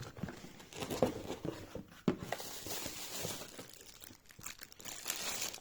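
Packaging of a Relax Tone massage device being opened, with close crinkling and rustling of box and wrapping, a few sharper crackles, and steady handling noise throughout.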